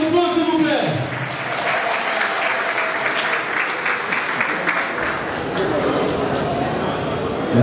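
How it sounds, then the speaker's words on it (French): Sustained applause from an audience in a grand hall at a unity summit in Douala, a steady dense wash of many hands clapping with a short spoken voice at the very start. "Sous vos applaudissements, s'il vous plaît."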